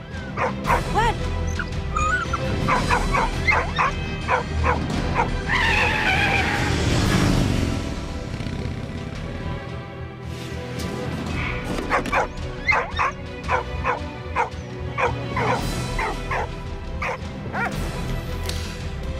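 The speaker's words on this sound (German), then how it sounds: "Die Hunde sind echt cool, muss ich sagen." Dogs bark and yip repeatedly in the WWI video game Valiant Hearts, with whimpering and bursts of game action mixed in; sharp, rhythmic barks come in clusters over a busy in-game background.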